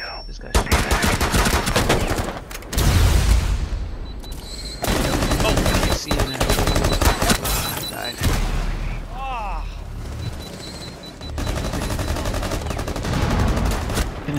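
Intense gunfire exchange in the Rainbow Six Siege video game: rapid, continuous bursts of automatic fire and loud shots from both sides, nearly unbroken throughout, with a voice talking over the action.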